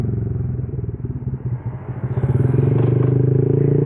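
A lightly modified motorcycle with only aftermarket lights rumbles steadily at close range while being ridden, with a pulsing, throbbing low engine note that grows slightly louder toward the end and no talking.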